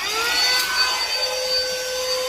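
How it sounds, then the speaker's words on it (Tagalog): A handheld car vacuum cleaner runs steadily up close, a loud whining motor hum with a constant airflow hiss and slight pitch wavering. "magbabacuum ta ng sasakyan"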